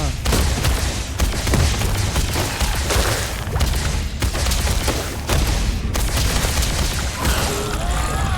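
Loud, rapid gunshots in the video game Starfield, repeated bursts in a steady rhythm with booming impacts, played over in-game combat noise.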